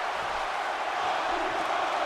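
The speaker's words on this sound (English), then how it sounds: "Listen to the crowd, they did not like that" Arena crowd noise from the wrestling video game WWE 2K17, a steady, dense roar of a disapproving audience that holds loud and even throughout, with no clear voices standing out.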